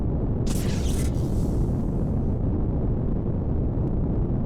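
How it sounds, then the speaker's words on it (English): Torpedoes fired in the space game Quintet burst in a loud, heavy explosion that whooshes sharply at the start, then fades into a deep, sustained rumble lasting several seconds. "fire some torpedoes right in front of us"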